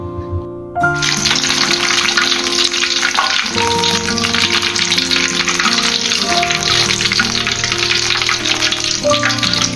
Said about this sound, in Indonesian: menggoreng juga jangan terlalu lama karena bahan-bahan risolnya kan juga sudah matang